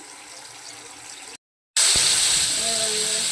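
Ground spice paste sizzles and hisses steadily in hot oil while being fried down for bhetki fish kalia, with a cut partway through and a louder, brighter sizzle after it.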